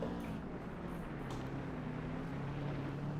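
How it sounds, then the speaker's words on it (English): A Subaru boxer engine in Gran Turismo 4 holds a steady, throaty drone at a fairly constant pitch, loud and continuous throughout with no talk. "Nice, throaty boxer engine."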